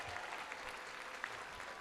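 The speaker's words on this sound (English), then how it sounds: "Give a standing ovation to your friends, your spouses, your supporters, and loved ones" A crowd at a college commencement claps in a standing ovation, a dense and even wash of applause that holds steady throughout at a moderate distance, with no speech over it.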